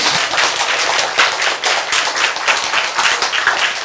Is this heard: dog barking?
no